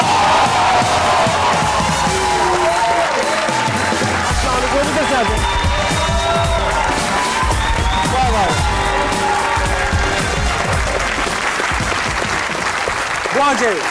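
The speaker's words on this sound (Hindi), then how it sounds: "तालियां बजाएंगे इनके लिए बेशुमार" A studio audience at a Pakistani comedy talk show claps and cheers loudly as a guest actress arrives, a dense, continuous roar of applause with whoops and a thumping music beat underneath throughout.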